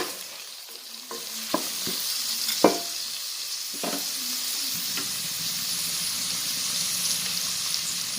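Chilli chicken being sautéed and stirred in a frying pan: a constant close sizzle with several sharp scrapes and clinks of the utensil against the pan, no voices.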